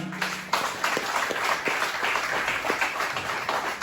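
An audience claps for a mentor at a network-marketing event, a brief, moderately loud patter of applause with a few sharper claps standing out.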